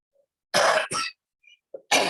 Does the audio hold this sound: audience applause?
no